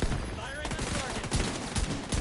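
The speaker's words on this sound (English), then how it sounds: "Firing on target." Dense, chaotic gunfire crackles in The Division 2, overlapping shots forming a continuous fusillade amid busy battle noise with a voice briefly audible.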